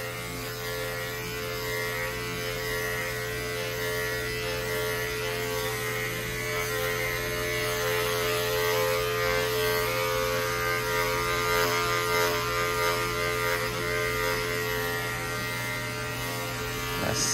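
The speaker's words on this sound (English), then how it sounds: "Let the clipper do the work." Electric dog clippers buzz continuously while trimming a Maltese's coat, a steady close hum with faint variations as the blades skim through the fur.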